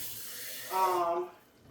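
Tap water runs briefly into a jar of pasta sauce, a short rising gurgle and fill under a faint background hiss, then stops.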